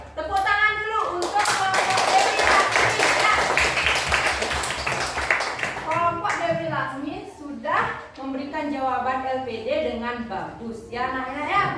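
Third-grade pupils clap together in an elementary school classroom, a rapid burst of hand claps lasting several seconds, followed by a teacher and children talking with brief clapping returning near the end.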